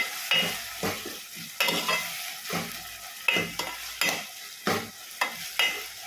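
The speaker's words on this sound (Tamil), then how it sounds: "தக்காளி நல்லா வதங்கணும்." Tomatoes sauté in a pan for a prawn curry, with repeated stirring strokes scraping through a soft sizzle in an uneven rhythm of about seven or eight bursts, close up and with no speech.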